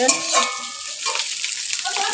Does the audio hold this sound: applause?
no